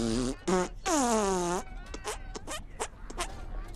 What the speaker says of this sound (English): Did that thing just fart at me?